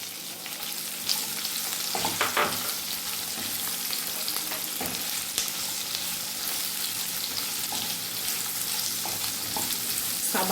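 Capsicum frying and being stirred in a pan for chilli chicken, a steady close sizzle with scattered scraping and stirring clicks throughout.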